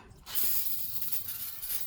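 Aerosol spray can hissing onto the wheel hub of a Ram 3500 truck during wheel bearing work, a steady close spray lasting nearly two seconds after a brief quiet start.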